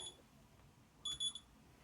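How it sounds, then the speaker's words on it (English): A brief electronic alarm beeps a few times in a quiet room, faint and set against low background hiss. "That was an alarm going off."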